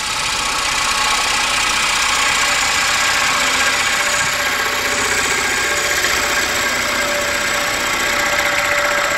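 A wood lathe gouge cutting the interior of a walnut bowl gives a loud, steady, close hiss mixed with motor hum, continuous and unbroken throughout.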